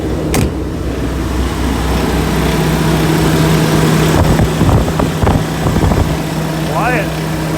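A diesel pickup truck engine idles quietly as a steady low hum, while brief clatters and other short sounds cut in over it.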